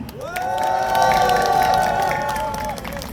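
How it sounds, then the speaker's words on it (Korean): A large crowd at an outdoor political rally in Yongsan cheers and applauds together, a broad sustained roar with shouting voices that swells and then fades over a few seconds. "다 같이 큰 박수를 보냅시다"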